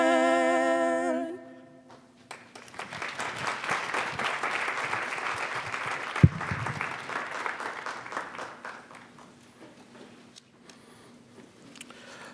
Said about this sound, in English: Let's give Sydney and Annabelle another round of applause, please, for that performance